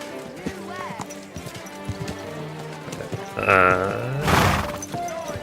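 Horse hooves clip-clopping at speed in Kingdom Come Deliverance 2, with a whinny and a crashing impact partway through, all under a voice speaking.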